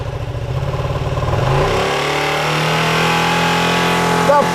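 Ducati Panigale V2 with an Akrapovic titanium exhaust on a cold start, a loud nearby engine rumbling unevenly at first, then settling into a steady high idle with a strong pulsing note.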